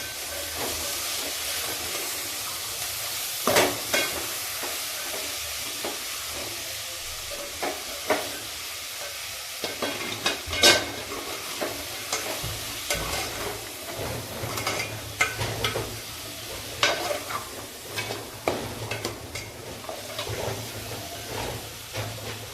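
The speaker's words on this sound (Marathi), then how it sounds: "एक बटाटा चिरलेला आणि हिरवे वटाणे टाकते हे पण चांगले परतून घेते" Chopped potato and green peas sautéing in a pan for a peas pulao, a soft continuous hiss with scattered stirring scrapes and clicks, fairly quiet and close.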